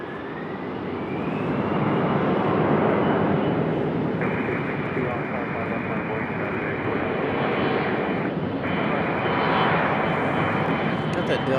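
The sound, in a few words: Delta Embraer E-175 jet departing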